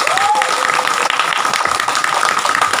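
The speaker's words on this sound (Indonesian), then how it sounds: "Tepuk tangan dulu buat anggota IWJ Korwil Bali." Applause from the audience at an IWJ Korwil Bali fourth-anniversary gathering in Bali, steady and dense clapping that fills the whole short stretch without pause.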